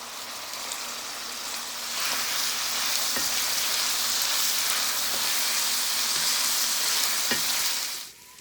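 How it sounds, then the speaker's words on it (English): Chorizo browning in a pan, a loud, dense, rain-like sizzle that builds after a couple of seconds, with occasional spoon taps and scrapes breaking up the meat, then cutting off abruptly at the end. "I am going to break them up with my spoon and brown them up"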